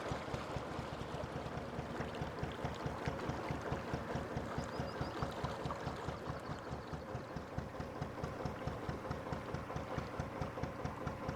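A canal narrowboat engine idles on England's canals with a steady, rapid chugging rhythm throughout, low and moderately close, alongside a faint watery background.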